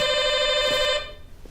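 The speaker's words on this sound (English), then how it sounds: "I just thought the way her doorbell sounded was insane." An electronic doorbell chime rings like a phone ringtone, a steady bright tone holding for about a second before stopping abruptly into quiet room noise.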